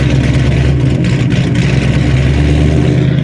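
A Mustang's freshly built engine runs loud and close, a steady rumbling idle with slight rises in revs, with no talk over it.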